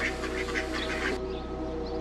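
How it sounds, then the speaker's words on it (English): Several harsh, nasal honking calls of wild Egyptian geese in quick succession, fairly close, on an island off Dubai, over a steady low hum that continues after the calls stop. "the Egyptian wild geese that made their way here and stayed"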